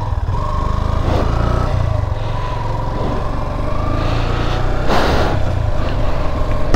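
A motorcycle is ridden on a moto trip near Gorkha and Birgunj: a loud, steady engine drone with continuous wind buffeting and a brief surge of road noise, and no speech.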